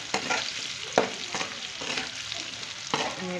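Crushed red chili being stirred into a potato and brinjal curry in a pan, with a steady soft sizzle and several distinct scraping strokes of a spoon, close and alone.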